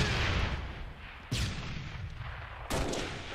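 Video game grenade explosions: two sharp broadband blasts with rumbling tails, about a second apart, over a loud continuous roar of gunfire and battle noise.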